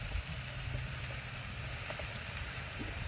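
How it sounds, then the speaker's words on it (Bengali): Onion, green chili and spices fry in hot oil, giving a steady, close, dense sizzle throughout with no talking. "পেঁয়াজ কাঁচামরিচ ভালোভাবে ভেজে নিছে, এখন তেলে বাকি মশলা দিয়ে দিই।"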